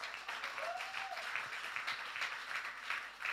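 A church congregation applauds, a steady even patter of many hands clapping throughout, moderately loud and without pauses.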